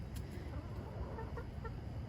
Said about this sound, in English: And we definitely have too many chickens now.